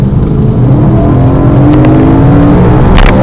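A 2012 BMW M3 engine pulls hard under acceleration, a loud steady rising drone heard from inside the car, with a brief rush of wind or road noise near the end.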